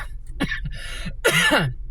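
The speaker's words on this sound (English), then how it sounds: "Someone has like a coughing spell." A quick fit of harsh coughs close up, several bursts in a row, the last ones loudest and raspiest.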